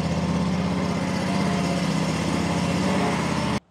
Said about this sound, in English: I'm going to put this stand-on mower back.